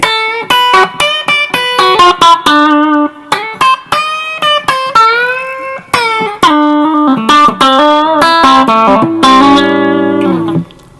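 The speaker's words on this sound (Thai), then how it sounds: "ผมจะเล่นสายหนึ่งสายสองจุดตาย ของมันให้ฟังนะ" Electric guitar played with distortion, a run of picked single notes and bends, loud and close, ending on a sustained ringing chord.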